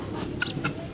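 A couple of short clucks from chickens eating overripe cucumbers over a steady outdoor background murmur, fairly close and brief.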